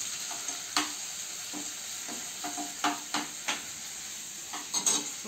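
Cinnamon and cloves frying in butter and oil in a pan make a steady faint sizzle, broken by a few sharp stirring scrapes and clicks.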